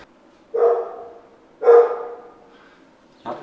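A dog gives three separate barks about a second apart, moderately loud and fairly close, with quiet between them and no talking.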